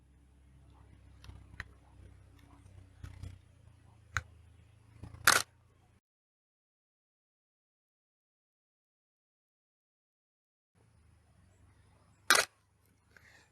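Camera shutter clicks from a photo taken in manual exposure mode: a sharp single release, small handling ticks before it, then a long silence and a second crisp shutter click, all close and isolated.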